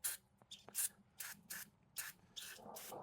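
Carburetor and choke cleaner sprays from an aerosol can onto the carburetor of a 1988 KLR650 motorcycle in several short hissing bursts, close and irregularly spaced.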